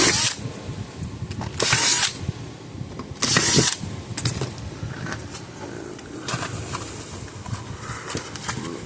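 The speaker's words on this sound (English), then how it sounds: "I'm going to drill out these two bottom ones." Power drill boring out rivets on a Parmak Solar Pak 6 solar fence charger, giving two loud bursts of whining drilling with shorter grinding and clattering in between.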